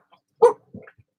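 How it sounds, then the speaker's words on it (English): A dog aboard a sailboat barks at passing dinghies: one loud, sharp bark followed by a softer, shorter yip and a faint trailing sound, close to the microphone. "Jetty barks at all the dinghies going by"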